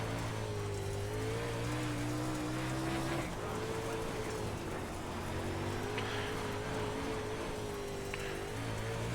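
Race car engine in a dirt track racing video game, a steady droning tone that rises and falls slightly through a lap, with a brief dip near the three-second mark and constant loud gritty road noise underneath.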